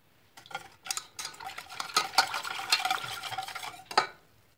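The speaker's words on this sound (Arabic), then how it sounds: "غادي نخلط الكل جيدا عاد نوضعه على النار" A spoon stirs a caramel cream mixture with half a litre of milk in a pot, giving close, soft scraping and clinking strokes in irregular bursts, with no talking.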